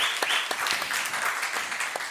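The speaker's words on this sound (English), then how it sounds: "Also a big round of applause here." A brief round of applause at a political party general assembly, many hands clapping steadily at moderate loudness for a couple of seconds.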